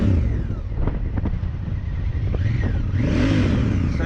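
A Honda Africa Twin adventure motorcycle engine revs close by, a steady loud idle rumble rising into a sharp rev near the end.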